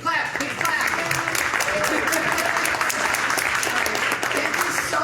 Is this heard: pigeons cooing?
no